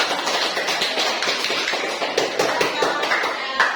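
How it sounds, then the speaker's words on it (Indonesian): A university class applauds a student group after its presentation, a busy run of clapping hands that keeps a fairly even level throughout. "kita beri tepuk tangan yang meriah untuk kelompok"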